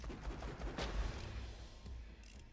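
Gunfire from a gun loaded with rock salt rounds in Borderlands 2, a dense burst of rapid shots with low booming impacts, steady and loud through the clip.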